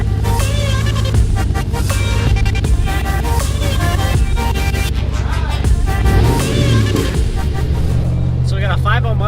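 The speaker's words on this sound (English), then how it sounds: "listen to that rumble. That is such a deep pitch." Chevrolet Silverado with a Borla exhaust driving, a deep, steady low rumble from inside the cab with someone talking over it much of the time.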